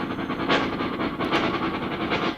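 An accordion makes a wheezing, chugging rhythm of pulsing tones mimicking a train rolling along the rails, steady and close, with brief louder swells.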